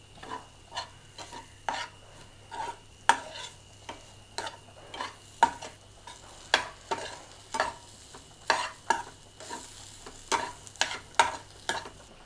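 Sambar masala with chilli powder frying in a pan, stirred with a spatula: a steady series of sharp scraping taps and clicks against the pan over a faint sizzle, roughly every half second, close and clear.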